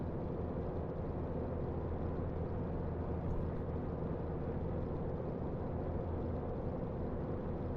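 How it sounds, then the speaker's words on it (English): A simulated Cirrus SR22 piston engine on the takeoff roll in X-Plane gives a continuous, even drone that holds steady throughout with no talking. "You'll hear the RPM increase to 2500."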